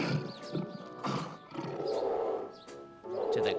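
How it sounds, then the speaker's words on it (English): A lion roars in a series of deep, rough bursts, each swelling and breaking off in quick succession, loud and close with no talk. "to the roar of the lion"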